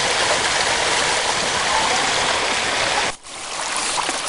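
Water rushes steadily through a gold sluice box, a loud, continuous close-up flow that briefly dips before resuming, with no speech.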